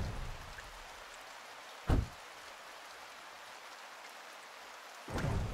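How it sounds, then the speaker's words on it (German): Steady rain in Blacksmith Master, a soft continuous hiss of falling drops broken by two brief louder gusts or splashes. "es regnet."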